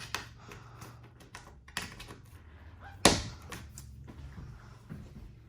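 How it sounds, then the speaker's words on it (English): In a 2021 Rogue Armored 4007 fifth wheel toy hauler, a door is pushed in against a folded bathroom wall. Scattered light clicks and taps lead to one sharp, loud knock midway, followed by a few softer bumps. "You push your door in."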